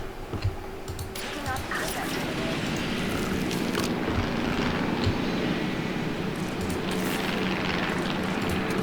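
A helicopter airlifts a dinosaur in Jurassic World Evolution, a steady whirring rotor drone with faint ticking that carries on throughout, partly under a voice talking.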